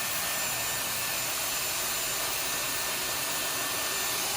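A Dyson Airwrap hair styler blow-drying a front section of hair gives a steady, loud broadband whoosh of rushing air that holds unchanged throughout, with no talking.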